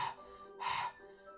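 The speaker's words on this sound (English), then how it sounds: "It sounds like breathing. Sharp inhale, like someone's sucking the air through their teeth." Two sharp, hissing inhales drawn through the teeth from a character in the horror game Doki Doki Literature Club, close and fairly quiet, spaced about half a second apart with a faint third breath trailing after.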